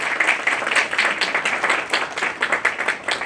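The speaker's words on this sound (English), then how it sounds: "huge round of applause." An audience claps for committee members being called onto the stage at a marketing session, a steady dense round of applause filling the room throughout.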